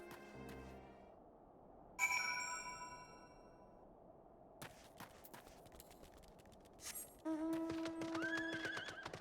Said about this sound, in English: I like the horses.